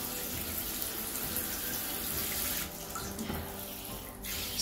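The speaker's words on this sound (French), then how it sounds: "Lorsque vous vous rincez les cheveux, faites-le consciemment." Water runs steadily from a tap while hair is rinsed after colouring with a hair dye, a continuous close splashing flow with slight shifts in tone, heard alone.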